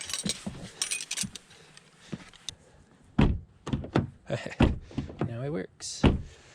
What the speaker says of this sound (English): Let me just readjust the door.